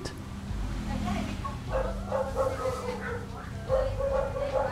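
Dogs bark in repeated short bursts in Chiang Mai, Thailand, moderately close over a steady street-like background hum.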